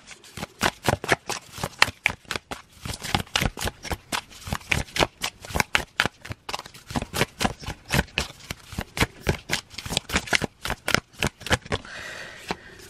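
Tarot cards are shuffled in a steady run of crisp riffling flicks, close and fairly loud, repeating rapidly and evenly for several seconds with no talking.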